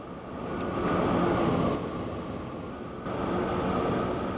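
Trains run down a mountain railway in the Transport Fever game, a steady loud rumble of wheels and engine droning continuously without talk, shifting slightly in level partway through.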